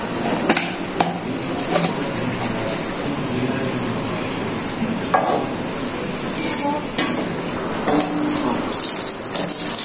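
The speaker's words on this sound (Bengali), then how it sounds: "কড়াইতে এখন আমি পেঁয়াজ তেজপাতা দিয়ে দিয়েছি এটা ভাজনা দেওয়ার জন্য।" Onion and bay leaves frying in oil in a wok, with a steady close sizzle under scattered clinks and scrapes of a spatula against the metal, plus a continuous background hum.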